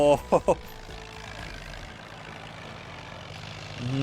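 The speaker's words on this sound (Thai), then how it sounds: "รถไถฟอร์ดลากไปไปเลย สงสัยหนักเกิน นะครับ" A Ford tractor in the Farming Simulator 19 video game strains to pull a heavy implement, its engine a steady low drone throughout, with someone speaking briefly at the start.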